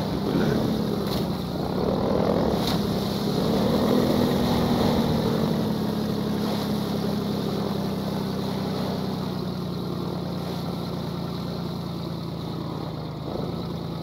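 A helicopter in the Half-Life 2 VR video game drones steadily in the distance, a low continuous rotor hum mixed with ambient noise, with no talking.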